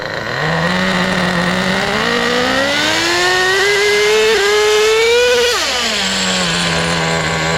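A Traxxas JATO 3.3 nitro RC car engine, running rich and shifting its 2-speed gearbox, revs up in a long rising whine that climbs steadily, peaks sharply, then drops back to a lower buzz, loud and close throughout.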